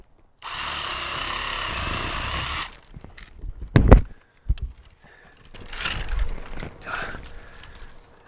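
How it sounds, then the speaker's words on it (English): Reciprocating saw fitted with a tree pruning blade cuts through a fruit tree branch outdoors, a loud steady buzzing run of about two seconds, then scattered knocks, rustles and a sharp crack as the limb gives way. "After doing this experiment with the reciprocating saw and a tree pruning blade, I found it to be successful"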